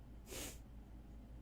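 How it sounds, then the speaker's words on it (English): A single short nasal snort of breath pushed out through the nose as a laugh at a joke, soft and close, over a quiet low hum. "That was the sound of me blowing air out of my nose at a moderately funny joke."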